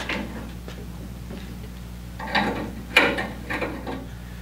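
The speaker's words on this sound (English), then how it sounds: "we're going to take these bolts and nuts off of here to release this manifold" Ratchet wrench clicking while loosening 9/16 and 5/8 bolts and nuts on the manifold of a 1930s Wayne 60 gas pump, with intermittent metallic clicks and a couple of louder clanks over a steady low hum.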